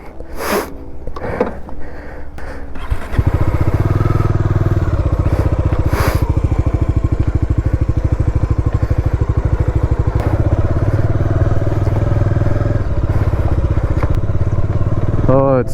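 A motorcycle rides along a rough dirt road with almost no traction, its engine droning loud and steady after a few opening thumps and rustles, with brief speech near the start.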